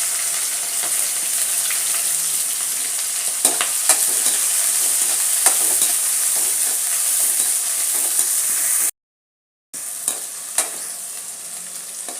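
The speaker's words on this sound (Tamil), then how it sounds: "இப்போ வெங்காயம் நல்லா வதங்கிடுச்சு" Onions and green chilies frying in oil in a kadai after mustard seeds, urad dal and cumin have spluttered, for rava kichadi: a steady close sizzle with occasional stirring clicks, broken by a brief gap of silence.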